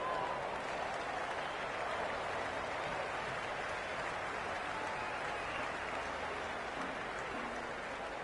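A cricket video game crowd gives a constant, even wash of cheering and applause, a dense steady roar with no distinct individual voices.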